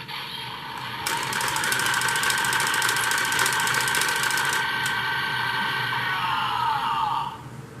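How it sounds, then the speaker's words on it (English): A DX Geartlinger toy blaster in Gatling gun mode fires a loud, continuous electronic rattling burst of rapid mechanical-sounding shots lasting about six seconds, then cuts off abruptly. "you can still activate the Gatling gun mode"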